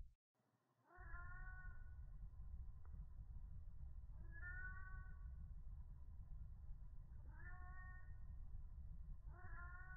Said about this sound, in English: I finally hear the cat. It's meowing.